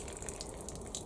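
Water poured onto orchids, a faint, steady trickle and patter of liquid running through and draining away, heard close and alone without talking.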